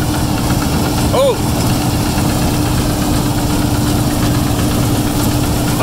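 A Fendt combine harvester engine running during a harvesting race, a loud, steady mechanical drone with a constant low hum and no pauses.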